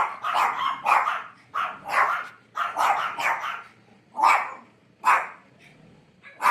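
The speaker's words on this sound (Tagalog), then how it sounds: "May alaga silang aso rito." A pet dog kept behind a house gate barks in a run of about eight sharp, fairly close barks at an uneven pace, with no one talking.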